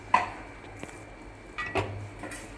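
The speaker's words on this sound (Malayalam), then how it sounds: "നെയ്യ് ചേർത്ത് നമ്മൾ മിക്സ് ചെയ്യും." A spoon scrapes and clinks against a pot while ghee rice is mixed with extra ghee, giving a few separate knocks and scrapes at close range with no talking.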